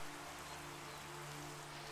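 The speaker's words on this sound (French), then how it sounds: "il pleut maintenant." Rain falls in Minecraft with the TerraFirmaCraft mod, a steady, faint hiss of downpour with a low constant hum underneath and no talking.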